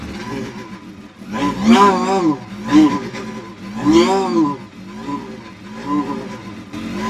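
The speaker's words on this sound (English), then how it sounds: "That's pure race engine, pure." A race car engine revs repeatedly in rising and falling bursts, loud and close, with a rough throaty tone.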